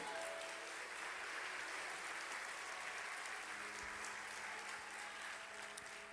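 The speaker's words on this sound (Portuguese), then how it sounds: "Você podia aplaudir o Senhor por isso?" A church congregation claps together during a pastor's sermon, a steady, even wash of applause heard faintly and at a distance, continuing without pause for several seconds.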